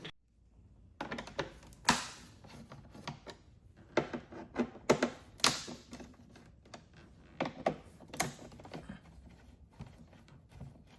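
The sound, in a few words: removing 5mm socket bolts from Honda Goldwing cover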